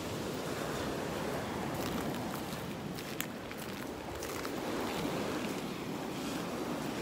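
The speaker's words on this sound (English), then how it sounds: "Awful lot of waves here, a lot of waves." Rough ocean surf at a beach in North Naples, Florida, roars steadily and loudly throughout, a continuous wash of breaking waves mixed with some wind buffeting the microphone.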